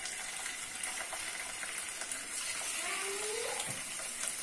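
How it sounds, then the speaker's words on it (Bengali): Chicken pieces fry in hot oil with a steady, close hiss and soft bubbling that runs unbroken the whole time, with no talking over it. "we have added the chicken and all of them are getting fried now"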